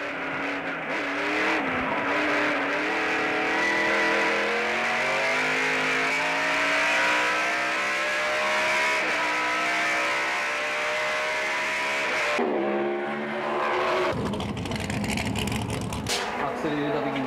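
A NASCAR race car laps a test track at speed, its loud engine howling and rising through the gears, then dropping sharply near the end as it slows, with a voice talking over it.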